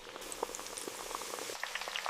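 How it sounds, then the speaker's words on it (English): Potato slices boil vigorously in hot vegetable oil in a factory fryer at 375 degrees Fahrenheit, a dense, crackling sizzle with scattered pops and bubbling spatter, close and continuous. "The moment they hit the oil, the water inside instantly turns to steam,"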